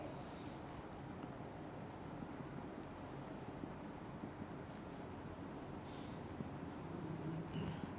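A pen writes steadily during an online physics lesson, giving a faint, continuous soft scratching with no pauses or talk over it.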